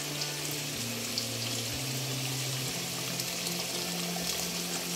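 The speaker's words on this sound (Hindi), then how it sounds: "तो चलिए अभी इसके अंदर पानी दे देती हूँ।" Water poured into a pan of mutton frying with green chilies, a loud steady sizzle mixed with splashing liquid, close up with no talking.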